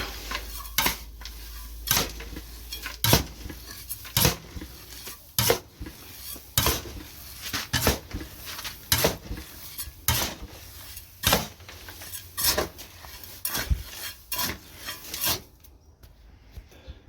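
Homemade quail feed of bran and grain is stirred and mixed in a container, making repeated rhythmic scraping and clattering strokes, fairly close and moderately loud, with no voices.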